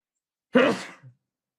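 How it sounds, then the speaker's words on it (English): A single sharp sneeze bursts out close by, followed by a faint short breath, then silence. "I was waiting for this sneeze for a very long time"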